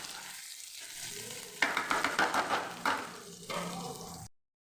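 Onion and panch phoron frying in oil, stirred with a spoon in a series of close scraping strokes over a steady sizzle before it stops abruptly.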